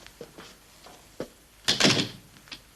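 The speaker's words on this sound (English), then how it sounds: "Marion, shut the door a minute" An office door is pushed shut with a solid thump that rings out briefly, after a few soft clicks and knocks. Light handling noises follow, with no talk.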